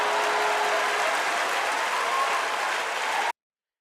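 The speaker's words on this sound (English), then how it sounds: "A lot of applause going around today." Steady, dense applause from a crowd, clapping continuously at a high level before cutting off abruptly.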